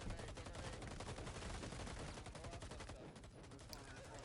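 Dense, continuous gunfire from a competitive Pro League video game match, with rapid overlapping bursts and shots filling the whole stretch at steady loudness, easing slightly near the end.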